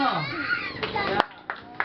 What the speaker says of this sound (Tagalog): palakpak dito